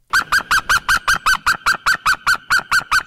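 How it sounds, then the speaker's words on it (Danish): White-tailed eagle territorial call, a rapid series of about fifteen loud, evenly spaced yelping honks repeating steadily for three seconds with no other sounds. "I perioden januar og februar hører man også havørnens karakteristiske territorieskrig"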